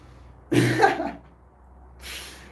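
A single sharp sneeze, close and loud, followed by a faint breathy exhale.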